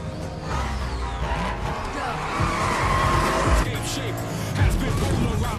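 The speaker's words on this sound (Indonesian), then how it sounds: "Balapan pun dimulai dengan Jacob mengambil posisi paling depan" Race cars in a street-racing film scene screech and skid with squealing tires over a steady engine roar, loud and continuous throughout.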